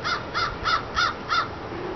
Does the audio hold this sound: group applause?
no